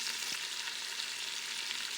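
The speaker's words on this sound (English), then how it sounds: "I'm going to put the onions in. I want them to saute a little bit." Onions sautéing in a pan before cube steak goes into a pressure cooker, a brief, fairly quiet, even sizzle with no voices.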